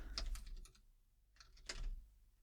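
Typing on a computer keyboard while filling in a web form: two short, quiet bursts of rapid key clicks separated by a brief pause, close and alone.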